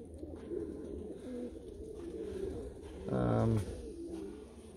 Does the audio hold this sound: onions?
no